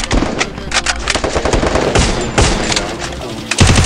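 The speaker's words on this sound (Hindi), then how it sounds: "अरे लग गया स्नाइपर चलाने लग गया यार" Sniper rifle and other gunfire in a mobile battle royale video game, rapid loud bursts of shots crackling in quick succession, close and dense, with no talk over them.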